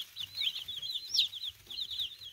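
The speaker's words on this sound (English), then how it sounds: "we ordered 35 Freedom Rangers, and they sent one mystery chick" Freedom Ranger chicks cheep and cluck in a steady run of high, chirpy peeps, fairly soft and close with a faint low murmur underneath.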